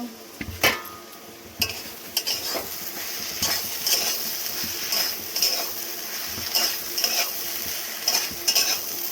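A spoon stirs soybeans, potatoes and fried spice masala in a pan, giving repeated sharp metallic clinks and scrapes over a constant soft sizzle, close and without speech.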